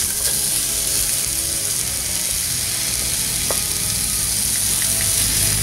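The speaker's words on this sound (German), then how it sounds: "Jetzt brutzeln wir erst einmal den Bacon oder Bauchspeck und die Zwiebeln." Bacon or pork belly and onions sizzling in butter on a grill, a loud continuous crackling fry with no voices.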